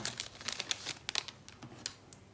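Pokémon trading cards slid into thin plastic protective sleeves, giving quiet, close crinkling and rustling with a few sharper crackles, no talking.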